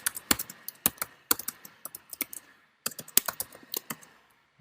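Close, crisp typing on a computer keyboard, rapid irregular key clicks in bursts with a short pause midway, no voices over it.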